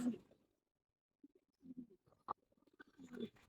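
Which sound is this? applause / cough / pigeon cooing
pigeon cooing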